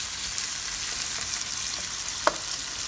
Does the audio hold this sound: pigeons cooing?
no